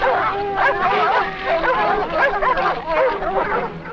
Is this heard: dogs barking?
yes